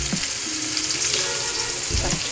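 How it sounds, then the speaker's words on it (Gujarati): Asafoetida, onion and curry leaves sizzle in hot oil after mustard seeds have crackled, making a loud, dense, steady hiss close up with a couple of low thumps from stirring. "હવે એમાં થોડી હિંગ અને ડુંગળી અને મીઠો લીમડો નાખીશું અને એને થોડીક વાર સીજવા દઈશું"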